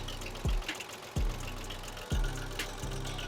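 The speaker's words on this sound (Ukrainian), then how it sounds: "Ось так працює двигун." The rebuilt engine of a Japanese Mitsubishi MT200 tractor runs at a slow idle, close by, with a steady, heavy knocking thump repeating roughly every second over a continuous mechanical rattle.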